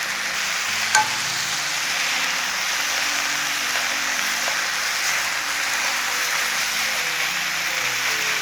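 Pork stir-frying in a pan with onion and one Cheongyang chili pepper, a steady close sizzle and crackle with scraping stirs, one sharp clink near the start, no voices.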